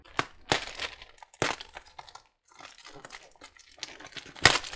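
Scissors snip and crinkle through plastic towel packaging close up, a few sharp crunchy cuts separated by short pauses, with no talking.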